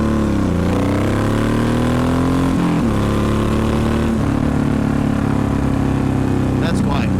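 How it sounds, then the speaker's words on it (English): A Honda VTX 1800 cruiser motorcycle fitted with Cobra exhaust pipes gives a deep, steady engine rumble whose pitch drifts up and down with small throttle changes, while someone talks over it. "The 1800 sounds great with the Cobra pipes"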